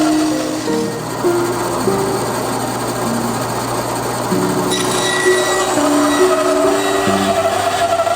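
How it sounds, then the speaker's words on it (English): A bandsaw rips wood blanks into thin fins against a feather board, a loud, continuous machine whine whose pitch shifts as the blade loads and frees up. "Using the bandsaw and a feather board, I cut the blanks into thin fins"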